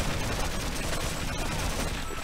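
Dense, continuous gunfire from the Half-Life video game roars loud and unbroken for a couple of seconds.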